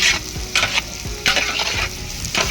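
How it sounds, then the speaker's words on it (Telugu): Onions frying in oil in a large pan for a big batch of egg fried rice, stirred in loud repeated scraping strokes over a constant sizzle, close up with no talk. "మళ్ళా ఒకసారి కలబెడదామన్నా."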